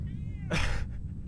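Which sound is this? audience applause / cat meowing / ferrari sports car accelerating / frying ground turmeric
cat meowing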